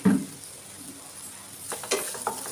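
Spiced egg mixture with chilli powder stirred in a pan, a soft scrape at the start and a couple of light utensil taps near the end over a faint sizzle.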